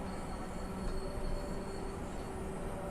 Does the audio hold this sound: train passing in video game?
yes